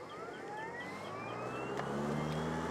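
A Ryobi 40V cordless battery lawn mower cuts through tall grass, its motor whine rising steadily in pitch under a constant, fairly faint hum of blade and grass noise.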